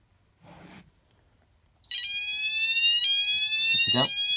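An addressable fire alarm system goes off when an optical smoke detector is triggered, sounding a loud, steady electronic alarm tone that holds for several seconds. A brief murmur of voices comes just before the alarm starts.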